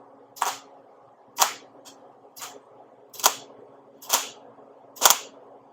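A welder tacks a small ball of weld wire onto metal during a custom turn signal install: six short, sharp crackling zaps spaced about a second apart, close and crisp, with no talking.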